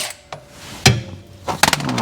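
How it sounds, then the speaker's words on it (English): A 14 mm socket and ratchet loosening a bolt during an oil change on a Kubota RTV 520 utility vehicle, giving a few separate close clicks and clunks spread over two seconds. "with the 14 millimeter socket and ratchet, going to go ahead and loosen that up"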